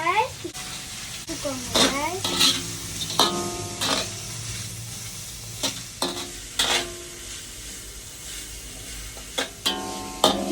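Bitter gourd pieces are tossed and stirred in a hot pan, with soft frying sizzle under sharp, intermittent scraping and stirring clatters, a voice speaking between them.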